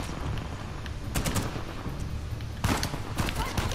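Gunfire from the video game Uncharted: The Lost Legacy, heard as two loud bursts of rapid shots, one near the middle and one toward the end, over a steady rumbling game backdrop.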